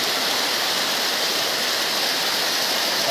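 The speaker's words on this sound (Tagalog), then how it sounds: "Nasa 200 meters ang taas ng talon na ito." A tall 200-metre, four-tiered waterfall in Brooke's Point, Palawan roars as a dense, continuous wash of falling water, loud and unbroken across the whole stretch.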